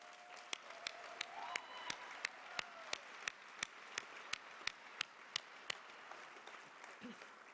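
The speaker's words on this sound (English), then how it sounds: "So please join me in a round of applause thanking them for their work." Audience applause at a university health sciences commencement ceremony, a steady wash of many hands clapping with sharper individual claps standing out, filling the whole stretch at moderate level without speech.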